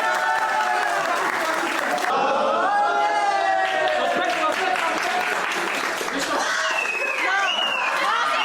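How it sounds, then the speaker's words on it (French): A crowd applauding, with dense, steady clapping sustained throughout, mixed with excited voices, chatter and talking over the top. "On applaudit ça, super!"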